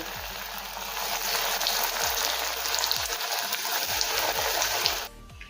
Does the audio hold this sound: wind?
no